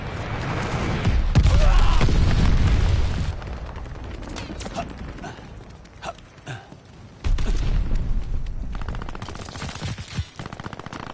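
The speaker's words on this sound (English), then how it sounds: "Enemy's got a glide bomb incoming." A glide bomb explodes in Call of Duty, a loud, heavy boom that rumbles for a couple of seconds, followed by scattered gunfire bursts and another roaring blast.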